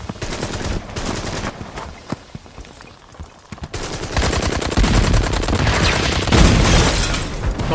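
Film gunfire in a battle scene: scattered single shots, then sustained loud rapid bursts of automatic weapons fire that build in intensity, with no talk.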